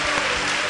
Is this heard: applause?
yes